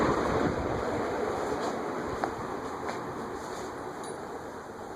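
A Leading Edge A-60 industrial ceiling fan with slightly bent blades spins down, giving a broad, airy whoosh that fades gradually over several seconds.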